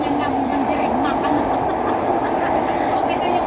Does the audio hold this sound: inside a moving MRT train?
yes